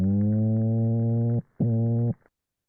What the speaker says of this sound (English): So this is of a marine fish.